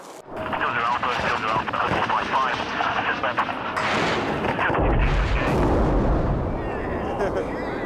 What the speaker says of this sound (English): they're going to put an airstrike in. I think 2 500-pound bombs is what I heard.